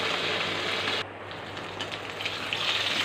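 Pomfret pieces shallow-frying in oil to a light golden red produce a dense, continuous sizzle heard up close, dipping slightly in brightness partway through, with no voices.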